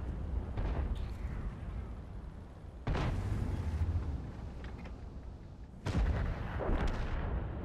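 Cannon fire from a tank in a tank video game, three heavy booming shots spaced a few seconds apart, each a sharp blast trailing off into a rumbling decay, fairly close and loud.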